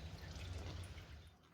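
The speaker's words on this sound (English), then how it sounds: "So let me close this back and fill it back with oil" Engine oil pours steadily into a ticking Porsche engine, a continuous liquid gurgle and trickle at close range that tapers off near the end, with no talking.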